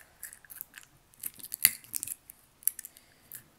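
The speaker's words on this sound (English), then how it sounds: "I'm gonna take my scissors and just" Scissors snip repeatedly through slime in quick, irregular bursts, cutting a hole, close and crisp, with short pauses between clusters of cuts.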